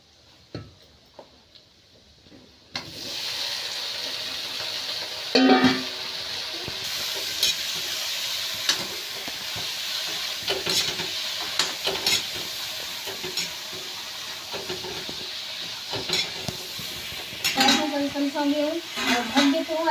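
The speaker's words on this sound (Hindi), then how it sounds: "तो मैं सब्जी छौंक देती हूँ।" Vegetables hit a hot pan with fried chilies in a village kitchen, bursting into a loud, steady sizzle after a few quiet seconds, with clinks of utensils and stirring throughout and a voice briefly near the end.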